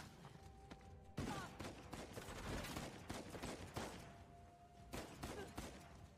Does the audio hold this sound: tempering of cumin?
no